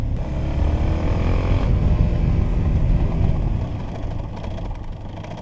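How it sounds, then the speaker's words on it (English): A Suzuki XF650 single-cylinder motorcycle with an aftermarket exhaust is ridden along a road, its engine droning steadily under heavy wind buffeting, easing off toward the end with faint crackles. "The exhaust has got a slight pop when you let off throttle as well."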